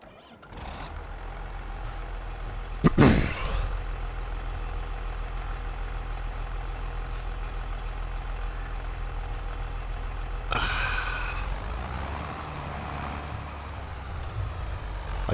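Silver tractor in Farming Simulator 22 running with a steady, droning engine hum throughout, a sharp hiss-like burst near the start and a brief rise in revs later, with no talking.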